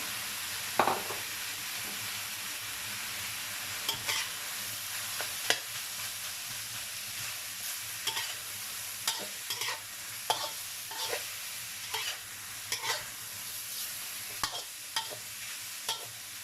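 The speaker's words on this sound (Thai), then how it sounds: "ทีนี้เราก็ใส่ หอมลงไปนะคะ หอมลงไปผัดต่อนะคะ" Shallots and champignon mushrooms are stir-fried in a pan with a steady background sizzle, while a utensil scrapes and taps against the pan in irregular strokes throughout, close and moderately loud.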